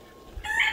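Farm chickens on an icy winter day give a short cluck, then a rooster's crow rises loudly, brief and fairly close.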